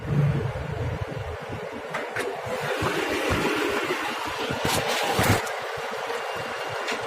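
A Mitsubishi Lancer GLX engine idles smoothly, giving a steady low rumble with a soft, even hum and a few faint clicks, heard close with no talking.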